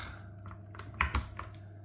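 Typing on a mechanical keyboard fitted with tactile Budgerigar switches, a short run of close, crisp clacks and taps with a couple of louder key strikes near the middle.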